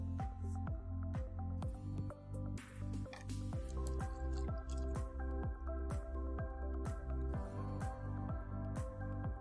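Icelandic Glacial water poured onto a tea bag, producing steady, evenly spaced drips and soft squishy liquid sounds that repeat close up throughout, with no talking.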